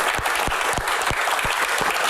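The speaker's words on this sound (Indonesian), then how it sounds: "Tepuk tangan buat Mas Indro sekali lagi" Steady applause from an audience at a live Indonesian comedy Q&A show honoring Indro of Warkop, dense clapping with a few sharper claps standing out, continuous and fairly close.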